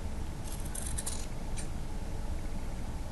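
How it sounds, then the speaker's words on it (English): Scissors trim away extra fabric from a sewn fabric pouch corner, a few quick crisp snips close by over a steady background hiss, with no talking. "I'm going to take my scissors and I'm going to cut that extra fabric away"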